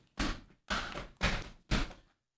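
Four heavy heel-toe stomping footsteps, each a loud broadband thud with a short trailing scuff, spaced about half a second apart indoors with no talking.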